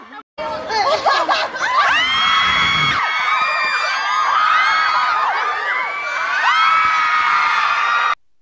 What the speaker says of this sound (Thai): ขอเสียงปรบมือและกรี๊ดดังๆเลยค่ะ